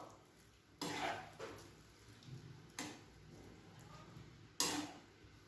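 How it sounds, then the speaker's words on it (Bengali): Spoon stirring soya chunks pulao in a cooking pot, with three distinct scraping clatters spaced a couple of seconds apart over a quiet kitchen background. "ভালো করে একটু নাড়িয়ে দেব।"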